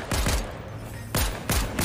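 Pistol shots in the video game Fortnite, a handful of sharp booming reports fired in pairs with short gaps, loud and up close.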